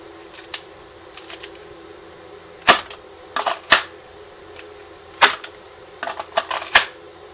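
A Kahr PM9 Generation 3 blue training gun snaps into a holster, producing a scattered series of crisp, close plastic clicks and snaps against a quiet background.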